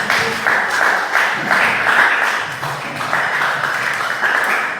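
Children at an orphanage's New Year thanksgiving church service applaud together, a steady wash of clapping that fills the whole stretch and rises and falls slightly in waves.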